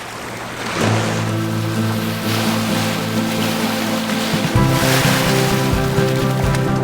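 Steady wash of sea waves splashing near a dock, with a low engine drone running underneath throughout.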